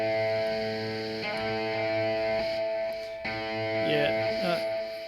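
A sustained, heavily distorted electric guitar chord rings out with a buzzing, saturated tone, shifting to a new chord partway and bending near the end.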